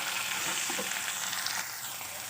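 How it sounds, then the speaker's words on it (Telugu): Two chopped tomatoes drop into a hot frying pan and give a loud, continuous, close sizzle that fades slightly after a moment, with no one talking. "ఇప్పుడు దీంట్లో 2 కట్ చేసిన టమాటా వేస్తున్నాను"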